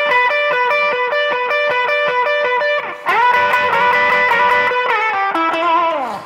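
An electric guitar plays a blues figure, rocking steadily back and forth between the fifth and flat seventh notes. The phrase is repeated in a higher position, loud and clear, with no voice over it.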